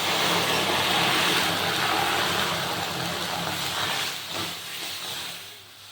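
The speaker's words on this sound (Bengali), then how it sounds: "এখন আমি দিয়ে দিব 1 কাপ জল।" A cup of water poured into a pan of fried mung dal sets off a loud, close, rushing steam hiss that slowly fades over several seconds, with no talk.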